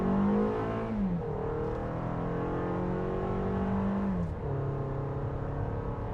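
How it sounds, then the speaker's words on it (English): A 2019 Toyota RAV4 Limited, 203-horsepower engine, accelerating hard from 0 to 60 mph, loud and close, its drone climbing steadily in pitch with two brief dips at gear shifts, with no talking. "the engine makes quite a bit of noise"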